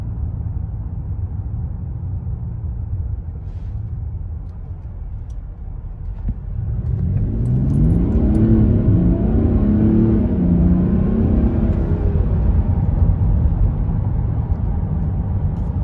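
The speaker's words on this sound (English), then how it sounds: "So let's see how it accelerates." A 2020 Mercedes GLS 400d diesel SUV accelerating uphill at night, heard from inside: a steady low cabin rumble that swells into a rising engine drone as revs climb and hold.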